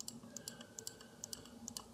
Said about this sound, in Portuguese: Eu venho contornando o meu objeto com pequenos cliques.